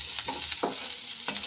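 Ginger and garlic fry in hot oil for veg momos, a steady close sizzle broken by a few soft stirring scrapes, with no voices.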